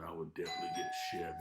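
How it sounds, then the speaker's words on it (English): A doorbell chimes with sustained ringing tones inside a home, sounding close and clear while someone talks over it. "And that's a doorbell right there."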